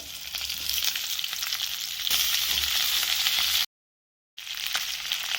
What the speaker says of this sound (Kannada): ಈಗ ನೋಡಿ ಹುರ್ಕೊಂಡಲ್ಲಿ ಮೆಣಸಿನ್ಕಾಯಿ ಹಾಕೋತೀನಿ